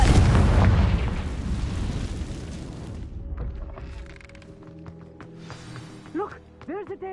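A Confringo blasting spell detonates in Hogwarts Legacy, a loud booming explosion that rumbles and fades over about three seconds, then quiet rattling debris and rising magical shimmering tones follow.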